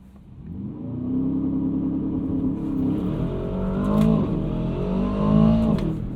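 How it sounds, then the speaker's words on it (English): An Aston Martin DBX 707 performs a launch-start acceleration, its engine revving hard from a low rumble and climbing through rising gear pulls, loud and close from inside the car, with no talking. "Let's do our launch start."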